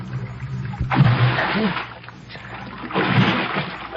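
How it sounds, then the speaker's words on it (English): In a radio drama, a person jumps into an icy river with a rough, broadband splash and churn of water. A second surge of sloshing follows, with a voice faintly present. "I ran to the rail and vaulted over into the icy river."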